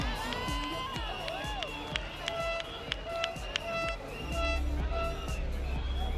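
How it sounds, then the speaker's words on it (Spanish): A lively crowd cheers and claps at a drag queen gala during the 2025 Vinaròs Carnival in Spain, with whoops and a swell of noise over a busy, music-like background. "¡Un aplauso!"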